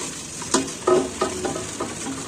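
Metal vessels filled with water are washed by hand, giving a handful of ringing clanks and knocks with splashy rustling over a steady background hiss, fairly close, with no voices.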